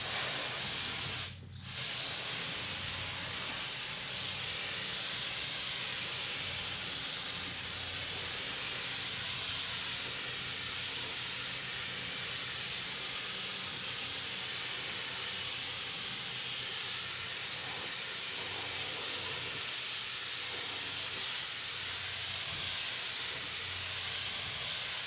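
Steady broadband hiss of a spray gun laying base coat paint on a 1948 Ford, continuous and close for the full length after a brief click near the start, with no talking.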